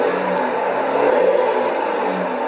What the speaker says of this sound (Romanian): Preda Andrei ne-a trimis un A4. Ce evacuare are